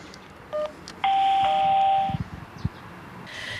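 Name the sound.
doorbell ringing at a villa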